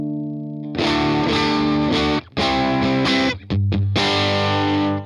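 A heavily distorted electric guitar plays loud, thick chords with brief choppy breaks through a simulated 2-Rock 2x12 cabinet on a UAFX Ruby amp pedal, dense and saturated, with no voices.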